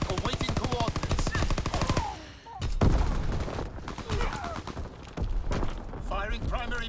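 Rapid rattling bursts of artillery battery fire in a video game, dense and continuous, with a radio-style voice speaking over the barrage.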